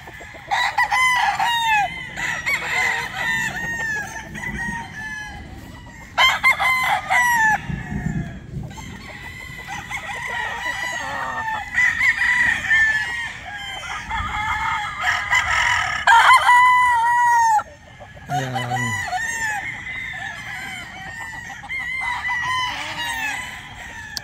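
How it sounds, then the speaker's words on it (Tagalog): Roosters crow repeatedly, loud and close, with clucking hens and more crowing answering in the background throughout. "biglang nagtilaw ka ng manok natin"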